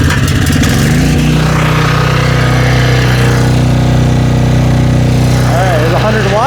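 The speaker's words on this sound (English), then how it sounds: "let's fire this thing up" Storm Responder portable generator engine pulled to start, then running at a loud, steady drone close by, with a voice talking over it toward the end.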